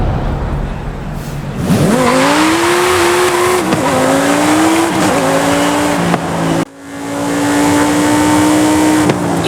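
A Forza Horizon 5 Ocho car works a gymkhana course, its engine revving up and down in rising, falling sweeps with tire squeal, loud and close with one brief dip before a sustained high-revving run.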